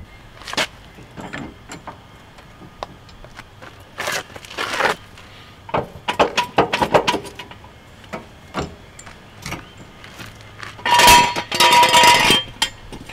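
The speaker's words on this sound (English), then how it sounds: "Got the jack stand out, making sure nothing is under there." A jack stand is pulled out from under a car during an oil change, with scattered metallic clangs and scrapes, a few sharp knocks, and a louder burst of rattling and clanking near the end.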